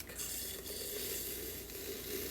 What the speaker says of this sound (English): And we're gonna give her a little whisk.